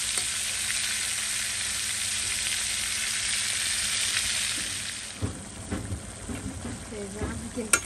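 Curry sizzles and fries steadily in a pan, a loud continuous hiss that thins out after a few seconds as soft clatter and a voice come in over it.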